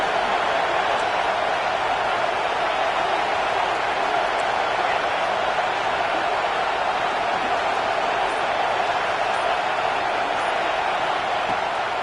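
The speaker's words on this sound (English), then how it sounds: "The roar of the crowd trying to fuel this defense to keep them pinned in their own end." A Madden football stadium crowd roars as one loud, unbroken wash of noise for the whole stretch, with no individual voices standing out.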